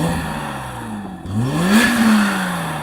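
A BMW M5 engine revs nearby, its pitch dipping briefly and then climbing and falling again in a smooth sweep.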